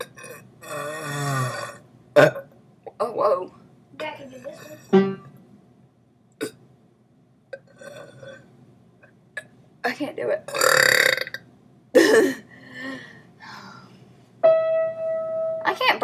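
Someone burps repeatedly, trying to match the pitch of musical notes, with loud, rough belches of varying length between bursts of chatter and a steady played tone near the end.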